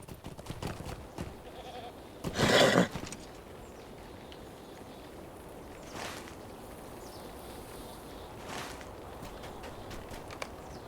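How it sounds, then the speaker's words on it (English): Wild Hill Goats in World of Warcraft Classic, with a loud bleat-like cry, fainter animal calls and hoof clip-clops over soft game ambience. "Oh, here's the goats. Wild Hill Goat."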